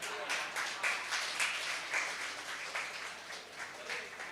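Audience applause at a Hindi kavi sammelan poetry show, a steady wash of many hands clapping with swelling bursts throughout, moderately loud and sustained.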